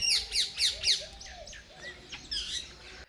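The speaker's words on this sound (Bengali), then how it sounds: "দেখুন কত সুন্দর পাখিগুলো এখানে খাবার খাচ্ছে" Several quick, bright bird chirps repeat in a rhythmic series, followed by softer scattered tweets and squawks, fairly close and without talking.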